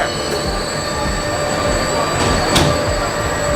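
Subway-style train at a Cinque Terre station, loud and close, with a steady grinding rumble and bright wheel squeal ringing throughout, plus a few sharp metallic clicks.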